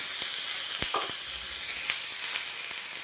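Four large onions fry in a little oil until reddish brown, a steady close sizzle and hiss throughout with a few faint stirring clinks and no talking.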